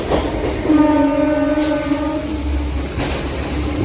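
A MEMU passenger train runs fast on rails with a loud, close rumble and a sustained tonal hum like a horn, while a goods train moves slowly on the parallel track.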